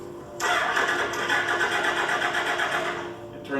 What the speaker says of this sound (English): it turns over but it doesn't start